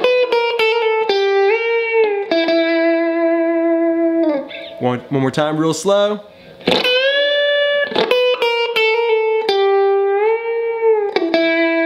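Electric guitar playing a high-octave pentatonic lick with wide super bends, sustained bent notes sliding up and down with effects, played through twice with a brief spoken instruction between.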